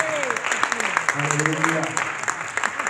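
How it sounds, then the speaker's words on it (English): A church congregation claps hands in a burst of applause while a voice speaks over it, the clapping scattered and lively throughout. "Give Him a hand clap and tell Him thank you."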